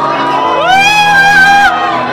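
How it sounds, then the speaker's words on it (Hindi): Audience at a wedding sangeet cheering loudly, a close crowd of whoops and sustained shouted cheers rising and falling over about two seconds. "एक बार जोरदार ताली बजाओ और थोड़ा शोर मचाओ।"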